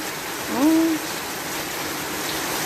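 Steady broadband hiss of a heavy rain downpour in a Ukrainian village garden, constant throughout, with a brief tonal hoot-like sound rising near the start.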